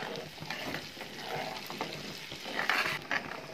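Chili powder, onion-garlic masala and turmeric being stirred in a frying pan for fish curry: a soft sizzle under repeated scraping strokes of a spoon, with a few sharper clinks near the end.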